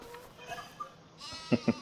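Two short lamb bleats in the video game Farming Simulator 25 come close together near the end, after a stretch of quiet background noise.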